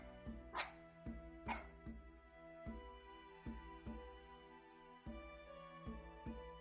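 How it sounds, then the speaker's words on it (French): A dog gives a series of short, bright yips and barks at an irregular pace, with soft whimpers between them, fairly close. "il remue la queue et aboie joyeusement"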